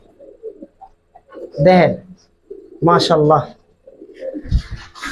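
Giribaz pigeons coo in a few close, throaty bursts, one early and another around the middle, with faint scuffling and a voice murmuring between calls.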